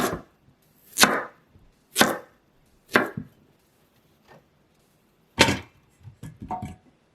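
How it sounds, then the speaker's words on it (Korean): Carrots cut into thick rounds on a cutting board: a knife chops through them in firm, evenly spaced thuds about a second apart, then a pause and a quicker cluster of cuts, close and clear in a quiet room. "당근은 둥근 모양으로 두껍게 자르시고요."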